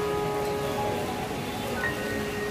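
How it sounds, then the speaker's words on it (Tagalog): Heavy rain during Typhoon Ulysses pours as a dense, continuous roar, loud and even throughout, with a faint steady tone running beneath the downpour. "Patuloy pa rin ang ulan dito."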